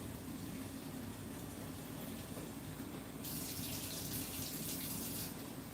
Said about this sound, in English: Now we're going to put a little bit of water in the bottom of these sausages to start out with.